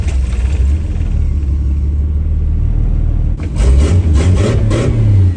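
A boosted engine in a 1963 Plymouth Valiant, fed through a Carter BBD carburetor, rumbles loudly and steadily, then surges into a harder, louder rev partway through, heard up close from inside the car.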